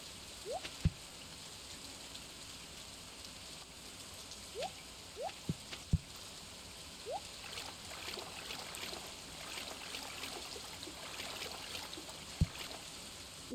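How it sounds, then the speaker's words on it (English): Ambient water and rain-like wash from the video game Stardew Valley on Ginger Island, a steady soft background bed broken by a few faint drip-like blips and light taps. "everything sounds like I'm in water even if I'm not"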